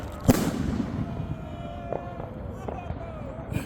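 New Year fireworks burst with one sharp, loud bang followed by several fainter pops and crackles further off, against a busy outdoor background.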